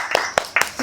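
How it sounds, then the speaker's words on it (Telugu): A few sharp handclaps, about four spaced claps in under a second, close and fairly loud, with no talk over them. "క్లాప్స్"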